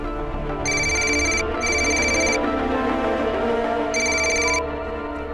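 A telephone rings in bright electronic bursts, three rings with pauses between them, loud and close over a steady background hum.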